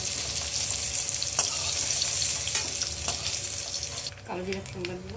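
Eggplant fries in hot oil with a continuous close sizzle and occasional crackles, then it fades as a voice begins speaking near the end.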